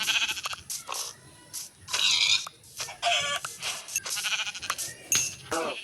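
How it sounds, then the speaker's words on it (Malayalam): In-game Minecraft farm animals (cows, goats, pigs and chickens) being attacked, producing a rapid series of loud bleats and clucks that overlap and break off in short bursts. "നമ്മൾ കണ്ണി കണ്ട പശുവിനെയും ആടിനെയും പന്നീനെയും കോഴിനെയും ഒക്കെ വെട്ടി കൊന്നു"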